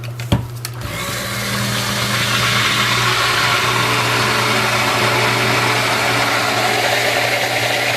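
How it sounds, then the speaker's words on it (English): An electric mixer whirs steadily in a pot of hot batch soap, starting after a couple of brief knocks and then running continuously and loud at a constant pitch. "we're going to stir with the mixer because it accelerates the process"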